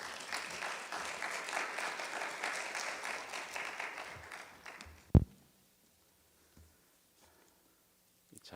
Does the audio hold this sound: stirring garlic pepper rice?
no